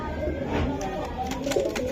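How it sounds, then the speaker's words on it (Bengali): Racing pigeons at a bird market cooing close by in short soft bursts, with background chatter and other bird sounds around them. "এই যে পুতুলের মতন দেখা যায় কবুতরগুলা"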